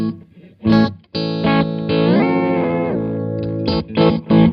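An electric guitar runs through a Universal Audio UAFX delay pedal, its crunchy, distorted delayed repeats ringing out loud and close in short bursts and one long sustained phrase, with no talking.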